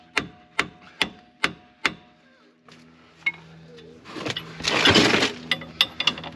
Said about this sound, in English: sometimes that shock of smack with a hammer, you don't often get to bash your vehicles with a hammer